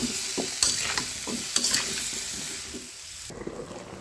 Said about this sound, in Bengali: এখন একটু নেড়ে করে মিশিয়ে নেব